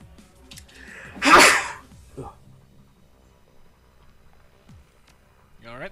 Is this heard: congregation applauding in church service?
no